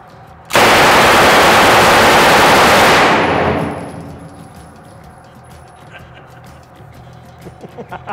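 A sustained burst of rapid automatic gunfire rings out at an NRA shooting range, very loud and close for about two and a half seconds before fading into quiet with scattered small noises.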